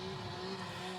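Toyota Supra Mark IV race car with a JZ engine passing at a drift event, a loud, steady, harsh engine drone held at high revs throughout the brief moment, no voices.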